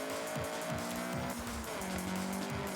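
Honda CRX accelerating in Forza Horizon, a steady engine drone with rising and falling revs and some tyre noise, continuous and fairly loud throughout.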